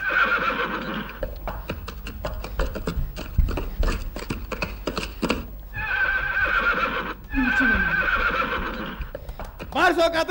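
Horse whinnies rise and fall, mixed with rapid clattering like hooves and loud talking throughout.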